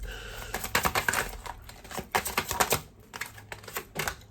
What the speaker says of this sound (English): My aggressive shuffling